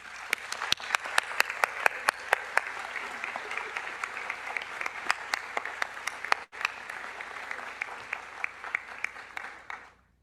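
An audience applauds at a nursing honors convocation ceremony, steady sustained clapping from a large crowd lasting about ten seconds with a brief dip midway, then fading.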